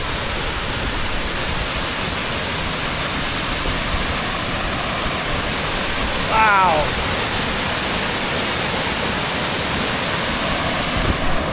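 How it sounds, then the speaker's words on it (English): A waterfall fed by mountain meltwater beside a logging service road in northern British Columbia roars with steady, loud broadband rushing that never lets up, and a single brief spoken exclamation sounds partway through. "As you can hear probably behind me, you're hearing rushing water. I found another waterfall."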